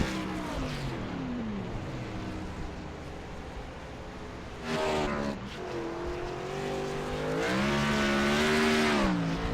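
Race cars at Sonoma cross the finish line at the checkered flag, engines droning and rising in pitch as they pass close by, with revving and shifting, loud and continuous with no voices.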